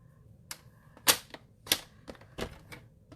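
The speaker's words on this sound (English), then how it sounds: "I'm just going to trim this down" Cardstock for a shadow box card is trimmed on a paper trimmer, heard as a series of sharp, close clicks and snaps at irregular intervals over near silence.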